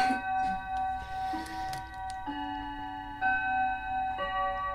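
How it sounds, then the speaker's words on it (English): An indoor clock ticks steadily while its chime rings out in sustained, overlapping bell tones, fairly close and clear, with faint room noise beneath and no one speaking. "We'll just let that clock chime."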